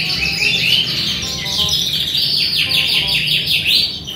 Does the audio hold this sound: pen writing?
no